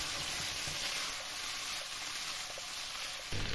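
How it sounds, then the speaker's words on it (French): Klocki dumplings frying and spattering in a pan with bacon, a continuous dense sizzle with small pops, steady and close, ending in a slight shift as the pan is moved. "là je vais y mettre mes klocki. Attention, ça sautille un peu."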